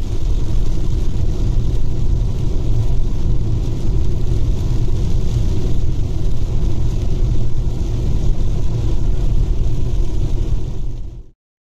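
Steady low road rumble from an Audi e-tron 55 electric car driving on a long winter trip to Swedish Lapland, a constant loud tire-and-wind drone inside the cabin that cuts off abruptly at the end.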